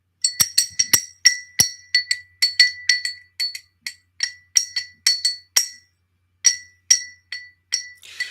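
Glass being clinked repeatedly, a quick series of bright, ringing taps about two dozen times in irregular rhythm, close and clear with no talking.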